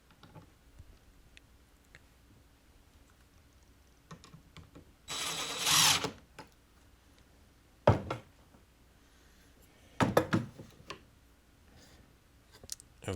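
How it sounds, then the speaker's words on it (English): A DeWalt cordless drill bores holes while rigging modular Christmas roof lights, with short whirring bursts, the longest near the middle, separated by quiet gaps and scattered clicks. "I love my DeWalt drill set there."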